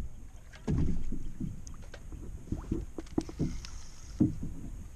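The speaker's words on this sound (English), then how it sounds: "as we're paddling back" Canoe paddling on a farm pond, with soft splashes and paddle strokes close by in a quiet outdoor setting.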